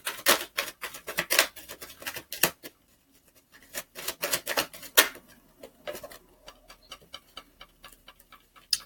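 Tarot cards being shuffled close up, a dense run of crisp papery riffling clicks in bursts, then a brief lull before more scattered snaps and flicks as several cards flip out onto the table, with no voices.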